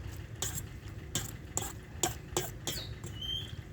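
A utensil stirs a pot of soup, making soft clinks and scrapes in an irregular rhythm over a low bubbling simmer, quiet and close.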